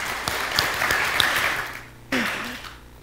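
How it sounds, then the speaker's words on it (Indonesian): A church congregation breaks into applause, a steady wash of many hands clapping that fades out and then picks up again briefly near the end. "Tepuk tangan dulu untuk Bapak Ibu"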